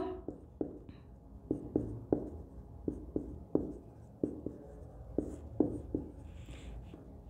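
Chalk or marker writing on a board during a chemistry lesson: a faint, close series of short irregular taps and scratches, roughly a dozen strokes, with no speech.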